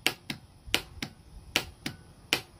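A 3-pole starter solenoid, wired to ground and a hot lead for testing, clicks sharply when energized, about seven distinct snaps at irregular intervals against a quiet background.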